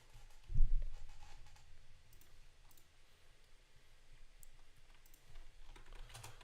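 Typing on a computer keyboard: a thump at the start, then light, irregular key clicks tapping in short bursts, close and fairly quiet with no talking.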